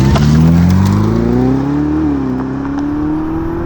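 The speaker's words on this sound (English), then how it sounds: "It's a pretty quiet engine." A Ferrari SF90 Stradale hybrid sports car engine hums steadily up close, its tone rising smoothly as it accelerates, fairly quiet and even throughout.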